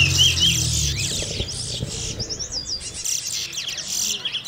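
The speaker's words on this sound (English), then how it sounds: "Owners urge on their birds to keep singing, while the scorers keep tally as the race unfolds." Prized competition songbirds in a singing contest in Guyana chirp and whistle rapidly and continuously, bright close trills over low crowd murmur.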